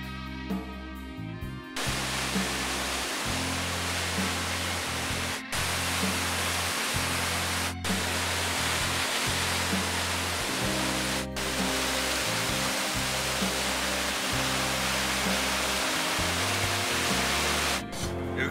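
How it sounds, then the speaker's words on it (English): Aira Force waterfall in northern England in winter, a dense, continuous roar of falling water close by, steady throughout with faint background tones. "This is some waterfall related place. It's called Air Force."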